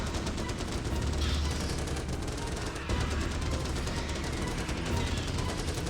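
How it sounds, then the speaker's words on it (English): Heavy machine gun turrets fire nonstop in the Starship Troopers: Terran Command strategy game, a dense, steady rattle of battle noise that runs without pause through the whole stretch. "So the heavy machine gun turrets are doing all the work here for us."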